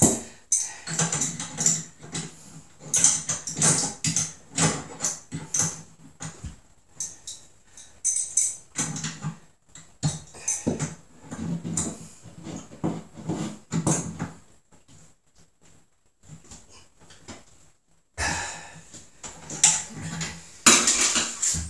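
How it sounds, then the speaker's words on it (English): A wrench turns a fitting while a new toilet is installed in a cramped spot, giving bursts of close metallic clicks, scrapes and clanks in irregular runs broken by short quiet gaps. "Not a lot of room to work the wrench here."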